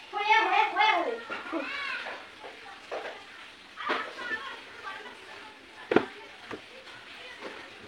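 A cat meows several times, drawn-out and wavering, close by, with a few soft knocks and rustles around it.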